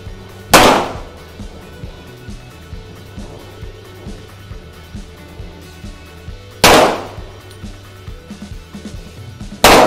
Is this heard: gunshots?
yes